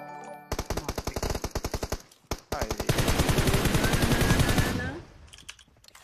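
Gunfire in PUBG Mobile: a burst of rapid automatic shots, a brief pause, then a longer sustained stream of fire that fades out near the end, loud and close.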